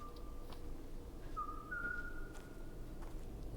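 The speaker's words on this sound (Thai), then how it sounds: "เราจะได้ยินเสียงผิวปากนะครับ" A person whistles in the horror video game Silent Mansion, a few thin, wavering whistled notes, faint and held briefly, over a low steady background hiss.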